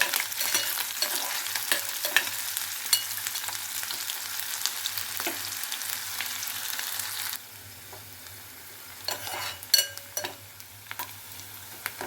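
Chopped green chillies and onions fry in hot oil in a pan for a mutton curry, a steady soft sizzle with light stirring that drops quieter partway through, followed by a few scraping taps.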